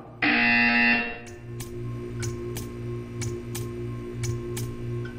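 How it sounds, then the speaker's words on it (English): Buzzer sounding in the Portal 2 video game: a loud harsh electronic tone lasting under a second, then a steady low hum with evenly spaced ticking clicks, no voices. "When you hear the buzzer, stare at the art."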